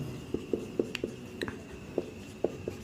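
A pen or marker writes an example sentence on a board, giving a quick series of soft, evenly spaced taps and short scratchy strokes. The strokes are close and fairly quiet over a faint steady hum, and nobody speaks.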